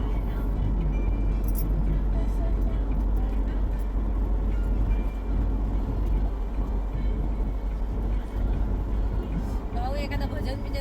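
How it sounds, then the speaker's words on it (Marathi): A car rolls along a winding rough, bumpy road in Konkan, its steady loud rumble and road noise continuing throughout, with voices talking over it. "गाडी हलते कारण की खाली म्हणजे खडबडीत रस्ते आहेत ते"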